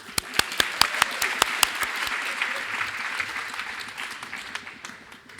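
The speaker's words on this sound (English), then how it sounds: "give yourself applause" Conference audience applauds in a hall, opening with several sharp, distinct claps that quickly blend into a steady, moderately loud wash of clapping lasting several seconds.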